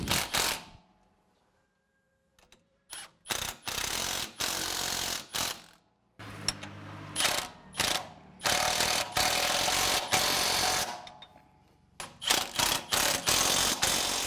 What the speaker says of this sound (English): At this point, you can tighten all of the hardware.